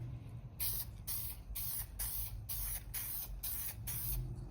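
An aerosol can mists SEM paint onto plastic car interior trim in about eight short, even bursts of spray hiss, close and clear with brief pauses between passes.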